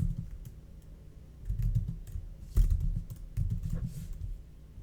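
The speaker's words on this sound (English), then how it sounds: "Let me just type in Berkeley, see if it show up." Keys clatter on a computer keyboard in short bursts of typing, close and moderately quiet, with small pauses between the runs and no voices.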